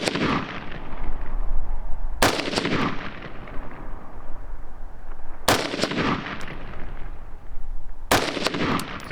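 Rifle gunshots fired with a red dot sight mounted, about four sharp, loud reports spaced a few seconds apart, each trailing into a long echoing decay outdoors.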